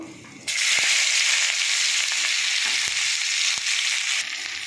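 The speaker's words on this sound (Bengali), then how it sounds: "তারপর আমি পেঁয়াজটা দিয়ে দেবো।" Onion hitting hot oil in a pan after fried fish, a sudden loud sizzle bursting in and holding steady with a few stirring knocks, no talk.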